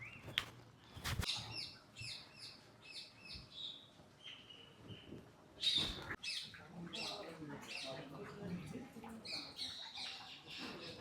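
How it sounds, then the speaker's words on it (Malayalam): Birds squawk and chirp at Puthur zoo in Thrissur, a busy mix of sharp repeated calls and screeches at varying distances, with a few loud bursts and faint voices in the background. "ഈ ഭാഗത്താണ് പക്ഷികളൊക്കെ കാണുന്നത്."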